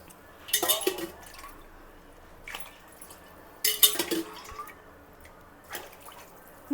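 Water poured from a glass into a pan while making upma, heard as a few short, close splashing bursts with light metallic clinks of the pan, separated by quiet gaps and no talking.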